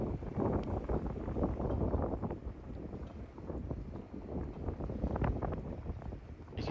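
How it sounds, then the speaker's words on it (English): Strong wind buffets the microphone at Yarmouth Harbour, with continuous gusty rumble and flapping across the whole stretch, loud and close with no talk. "You can see how windy it is with this flag fluttering quite strongly."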